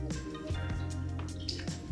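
Warm water drips and squishes in a bowl while a wet sponge wipes a face, with soft splashes and wet squelches close up, repeating at an irregular pace.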